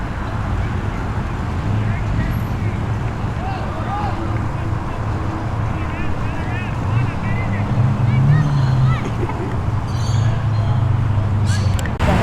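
A Ford XR6 street car pulls away from a car show in Tempe, Sydney, its steady engine drone close and loud amid street noise, with someone talking over it.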